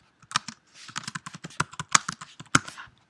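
Typing on a computer keyboard while building a Google Sites page: dense, irregular bursts of crisp key clicks, close and fairly loud, with no speech over them.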